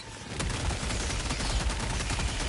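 Sustained gunfire in the video game Helldivers 2, a dense continuous rattle of rapid shots that fills the whole moment at a steady, fairly loud level.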